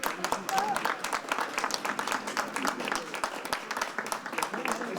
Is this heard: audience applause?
yes